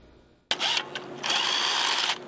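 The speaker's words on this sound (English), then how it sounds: "That's the sound of a busy day of fixing bumpers and busted tires across Milwaukee County" Power tool in an auto body shop fixing bumpers and tires: a loud, close burst of high-pitched whirring that starts abruptly, briefly dips, then runs steadily before easing off.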